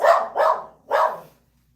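A dog barks three times close by, two quick woofs followed by a third after a short pause, then silence.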